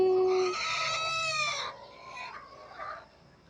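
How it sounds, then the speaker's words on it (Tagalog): Chickens, with a rooster crowing loudly and nearby, followed by softer clucking in an outdoor setting at sunset among grass and banana plants. "Chickens, chickens."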